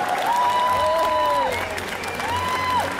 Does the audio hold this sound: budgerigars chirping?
no